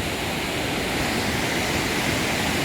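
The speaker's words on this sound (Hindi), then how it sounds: "लेकिन यहाँ नदी है और खूब ज़ोर शोर से।" A mountain river in Uttarakhand roars in a continuous, dense wash of churning water, loud and close, with no voices over it.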